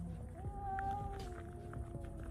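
A live cat, injured after being struck by a car, gives a faint drawn-out meowing wail over a low background murmur.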